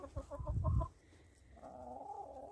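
Small hens cluck in a quick run of short, close calls, then a softer, drawn-out call follows after a brief pause.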